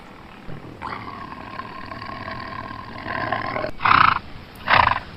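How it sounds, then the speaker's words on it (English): A white tiger lets out a drawn-out, rumbling roar lasting a few seconds, followed by two short, louder bursting roars, heard close and with no talk. "White tiger."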